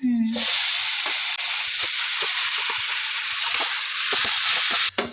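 Thick stalks drop into hot oil for a tempering and set off a loud, steady sizzle that hisses on without a break. Occasional soft stirring clicks come through it, with no talking.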